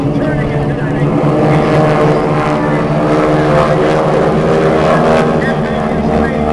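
Aerobatic airplane of the Aeroshell team performing at the Dayton air show, its engine droning loudly and steadily throughout with shifting pitch, while an announcer talks over it.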